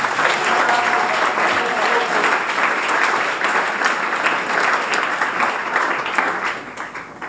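A church congregation applauds loudly and steadily during a bishop's sermon, a dense wash of many hands clapping that fades slightly at the end.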